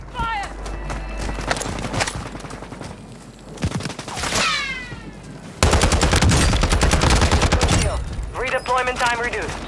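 Bursts of automatic gunfire and rapid shots crackle in Warzone 2 on Ashika Island, loud and close at times, mixed with game noise while players talk and shout over it.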